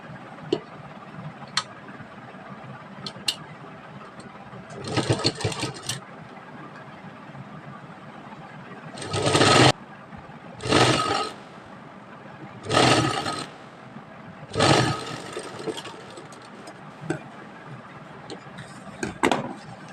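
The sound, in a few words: sewing machine stitching a sleeve seam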